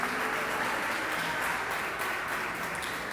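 A church congregation applauds steadily for a few seconds, a dense, even wash of clapping filling the room without a pause, with no voices rising above it.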